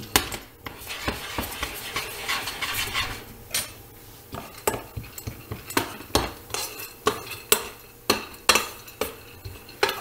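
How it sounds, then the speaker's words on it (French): Pine nuts clatter and scrape in a dry frying pan as they are stirred and tossed to toast, with a steady stream of sharp, close clicks and taps of utensil on metal and no talking. "on va les faire chauffer dans une poêle et cela va libérer tous les arômes"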